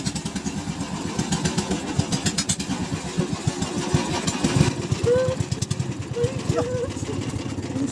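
A small boat's engine chugs with a steady, loud rumble nearby throughout, and voices talk over the noise.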